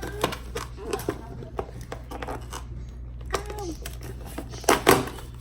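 A package is pried and torn open with a pencil instead of scissors, giving scattered close scratching, tapping and tearing noises, with a voice faintly murmuring in between.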